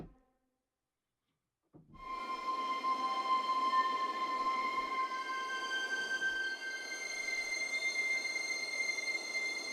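After a brief silence, a high, airy string ensemble texture of sustained harmonics from Heavyocity Novo swells in and holds, glassy tones shifting slowly over a hushed bed.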